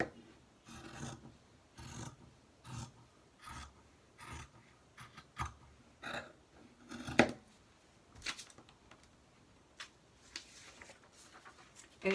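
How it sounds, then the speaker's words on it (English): Scissors snip through dress shirt fabric during a shoulder alteration, giving a steady series of close, crisp cutting strokes with short pauses between them and no talking. "I'm just going to cut here."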